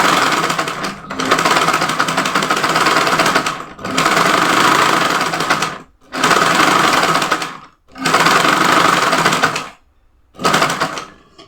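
A sewing machine stitches smocking on an off-shoulder dress in long loud whirring runs, each a few seconds long, broken by short pauses, close and clear.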